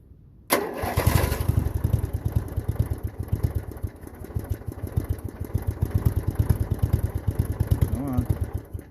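A rebuilt Craftsman LTX1000 lawn tractor engine fires up and runs close and loud with a rough, pulsing chug that keeps hunting unevenly as it runs.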